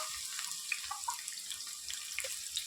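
Onions tipped into a pan of hot oil sizzle steadily, a close, bright crackle with small pops throughout, heard alone.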